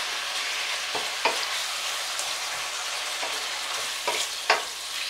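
Teriyaki chicken sizzles steadily in a frying pan as it is stirred, with a constant close hiss broken by occasional scrapes and taps of the utensil and no talk.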